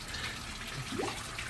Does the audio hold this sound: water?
yes